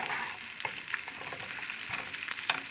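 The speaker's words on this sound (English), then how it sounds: "So make sure that you are at least stirring your onions." Onions sizzle steadily in a hot pan for a patty melt while a utensil stirs them, with irregular scraping taps over a constant bright frying hiss, close and alone.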